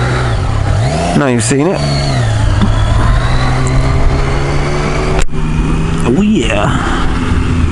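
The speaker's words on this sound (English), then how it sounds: "Let's take the MT09 for a spin then." A Yamaha MT-09 motorcycle rides with a steady engine drone, rising in a few sharp revs and gear changes as it pulls away, loud and close, while a rider speaks briefly.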